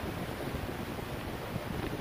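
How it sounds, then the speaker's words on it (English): On a windy day in a park, wind blows through the trees in a steady broadband rush with buffeting gusts against the microphone. No one speaks. "it's a little windy and you can hear it in the trees"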